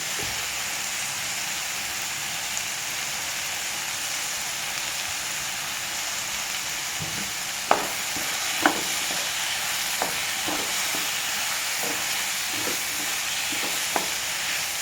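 Dried chillies, crushed cumin, pepper and garlic fry in hot oil with a steady, dense sizzle and hiss throughout, punctuated by scattered sharp clicks and scrapes of stirring in the second half.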